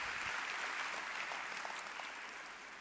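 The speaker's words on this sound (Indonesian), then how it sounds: "Kita perlu memberikan tepuk tangan untuk Riwai." An audience claps at a product presentation, a short burst of steady, fairly distant applause that tapers slightly toward the end.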